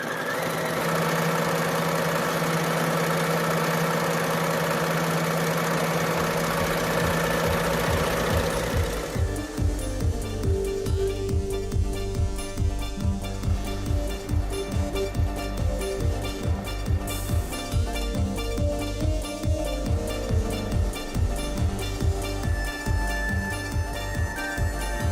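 A sewing machine stitches free-motion quilting, a steady fast mechanical chatter that starts partway through after a humming lead-in and then runs on without talk.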